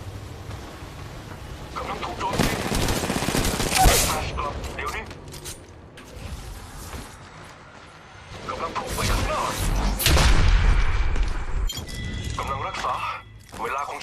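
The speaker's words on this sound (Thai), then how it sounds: "กำลังถูกยิงใส่ เจอศัตรู มีคนยิงมาที่ฉัน" Bursts of rapid gunfire in Apex Legends Mobile come in waves with crashes and booms, a voice speaking between and under the shots.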